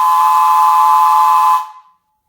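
A Crosby three-chime brass whistle from the New York City subway, blown on air, sounds one loud steady chord at constant pitch with airy hiss, holding for about a second and a half before being cut off cleanly.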